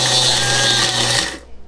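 A kitchen blender grinding spices for nasi arab runs with a loud, steady motor whir for just over a second, then abruptly cuts out and winds down.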